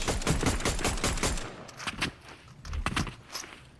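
Hollow assault rifle in Fortnite firing rapid bursts of sharp, close, punchy shots, densest in the first second and a half, then a few sparser shots and short volleys.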